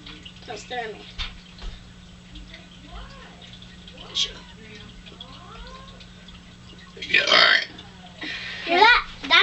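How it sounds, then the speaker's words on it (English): A child lets out a long voiced burp, forming a name through it, loud and close near the end after stretches of quiet chatter, over a steady low hum. "I'm going to say his name at the burp."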